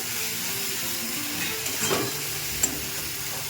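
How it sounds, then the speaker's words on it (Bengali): Spice masala for moong dal with fish head sizzles steadily in hot oil as it is fried down, with a couple of faint utensil clinks over the continuous close hiss. "মশলাটাকে ভালো করে কষে নেবেন"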